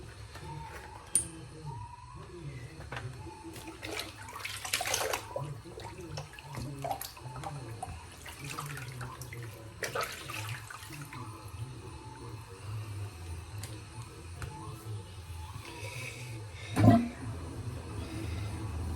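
Water running from a bathroom tap for a rinse after a straight razor face and head shave, a steady low splashing flow with intermittent sharper splashes and a louder clunk near the end, fairly quiet and with no talk.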